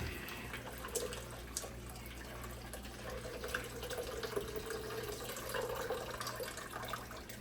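Water runs and drains through a kitchen strainer, a steady, soft rushing splash that holds at an even level throughout against faint background hum.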